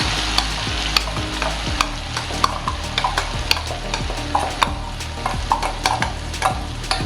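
An onion-tomato paste sizzles and fries steadily in hot oil for misal, with frequent sharp clacks and scrapes from a spoon stirring against the pan, close and continuous.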